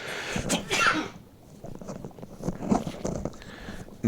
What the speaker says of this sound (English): I think I got to sneeze.